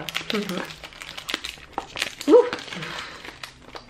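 Crinkling and rustling of packaging as a Guerlain Shalimar Millésime perfume box is opened, in short close bursts while someone speaks over it.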